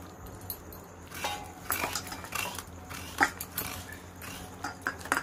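Coconut grated by hand in a home kitchen: irregular scraping strokes mixed with light metallic clinks and knocks, fairly close, with no talk.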